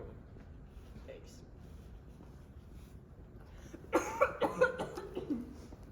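A minor cough in a comedic interview setting sounds as a short cluster of several close, fairly loud bursts near the end, following quiet background ambience.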